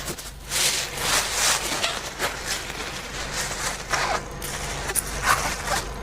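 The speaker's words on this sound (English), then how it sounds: "The next thing I'm going to do now is just cover my hair with a plastic bag." A plastic bag crinkles and rustles as it is pulled over locs during a moisturising hair routine, with steady close crackling and a few louder scrunching bursts, no talking.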